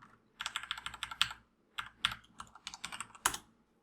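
Close, clicky computer keyboard typing while naming a button in a C# program, coming in three quick bursts of keystrokes separated by short pauses, with no voice.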